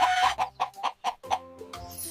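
A rooster crows and clucks up close in a quick run of sharp, repeated calls, loud and clear with no talking.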